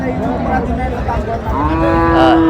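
Cattle at a rural livestock market in Dinajpur, Bangladesh, low drawn-out moos rising and sustained, loud and close, with the murmur of the crowd underneath.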